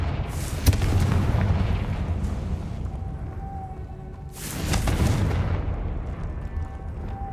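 Two booming fire-spell explosions from Confringo in the video game Hogwarts Legacy, each a loud broadband burst with a rumbling tail, the first near the start and the second about four seconds later, over a low ambient game drone.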